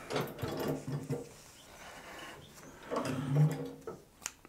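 An industrial compound feed walking foot sewing machine stitches through nine layers of material, its motor whirring in two short runs with a pause between, fairly quiet and close.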